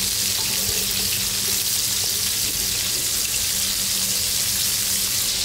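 Bombay duck (bombil) fish frying in a pan of oil, giving a steady, unbroken sizzling hiss that stays loud and close with no talking.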